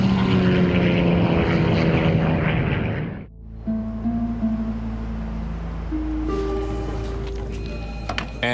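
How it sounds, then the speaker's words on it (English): A 19-passenger propeller plane dives toward the ground, its engines droning loudly with wavering tones, then the sound cuts abruptly and gives way to a lower rumble and shifting pitched whines. "a 19-passenger plane plunges towards the Earth"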